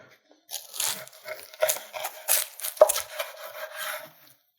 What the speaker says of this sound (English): Hear that crunch of the puff pastry.